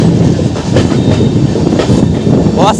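The 03065 Anand Vihar Amrit Bharat Express rolls by on its inaugural run, close and loud. A continuous roar of wheels carries rhythmic clickety-clack, with a rising metallic squeal at the end as it takes a curve.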